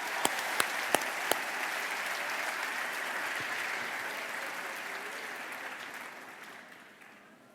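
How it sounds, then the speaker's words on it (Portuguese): Congregation applause in a church during an Easter service, a steady wash of clapping with a few sharp individual claps at the start, gradually fading away over several seconds. "Vamos a dar um aplauso ao Senhor."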